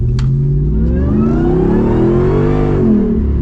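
A Jeep Wrangler engine, 392 or Hellcat, accelerates loudly and close, its tone rising smoothly through a single strong rev over a few seconds, with no talking.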